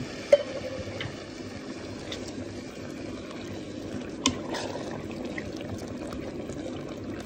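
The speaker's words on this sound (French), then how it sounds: "Et je mets le lait de coco." About 800 ml of coconut milk pours into a cooking pot for a white fish curry, making a steady, close liquid flow with a few small ticks and clinks.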